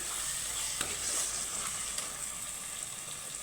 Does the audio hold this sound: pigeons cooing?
no